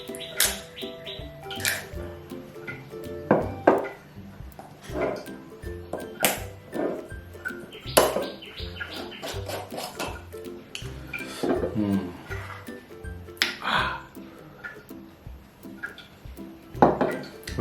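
Rice and chicken being mixed by hand on a plate during a big meal of chicken, mutton and white rice: irregular clinks, taps and wet squishes against the plate, steady and close, with no talking.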